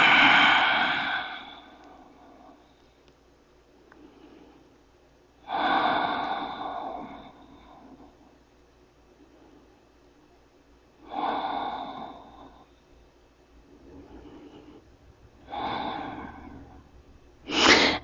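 Deep, slow breaths during hip stretches, drawn in and let out roughly every five seconds, close and clear against a near-silent room.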